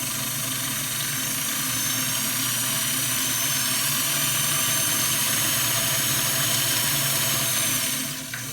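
Kenmore 1654 sewing machine winding its bobbin, a steady close mechanical hum and whir running evenly throughout with a slight drop at the very end.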